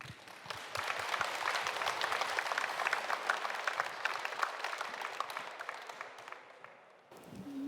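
A crowd at a live public radio broadcast applauds a speaker, a full, even roll of clapping that fades toward the end before a brief pause and fresh room noise.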